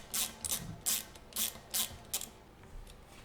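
A torque wrench tightens the wheel axle of an e-bike to 12 Nm, making a series of six or seven crisp ratcheting clicks at an even pace, close by, then fading out.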